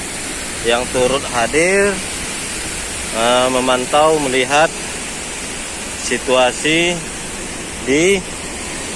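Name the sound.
Kedabuhan waterfall rushing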